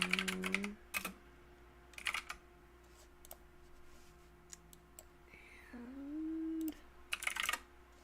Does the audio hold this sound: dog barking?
no